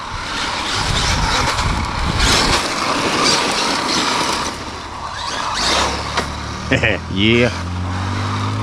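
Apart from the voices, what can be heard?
Traxxas Maxx Slash RC truck driving on Badlands tires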